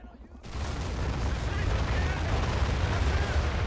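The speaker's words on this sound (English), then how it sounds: "let's take a look at this artillery barrage" A naval artillery barrage hits a tank in the Cold War 1975 mod, a sudden onset swelling into a loud, continuous rumbling roar of blasts that holds steady to the end.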